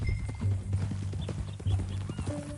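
Horse hooves clip-clop steadily in Red Dead Redemption 2, a close, rhythmic run of hoofbeats over a low in-game ambience, with a brief voice near the end.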